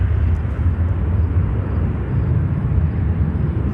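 An Air France Airbus A350-900 airliner from Paris at O'Hare roars loudly and steadily throughout, a continuous deep broadband engine rumble with no break.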